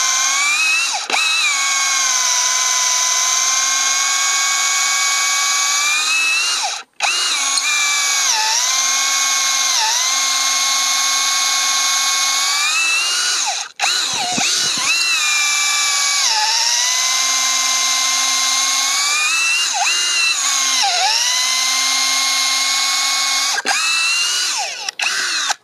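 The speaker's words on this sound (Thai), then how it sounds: "เจาะไม้ก็ต้องดึงขี้ไม้ออกมานะครับเพราะไม้มันแข็งนะครับ" An IMAX IMCD-20BL cordless drill boring into hard wood, a loud sustained high whine that dips under load several times and cuts out briefly between bursts.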